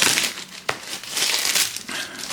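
Packaging for a ToolkitRC M8D charger crinkles and crumples steadily at close range, with a sharp rustle partway through and no voices.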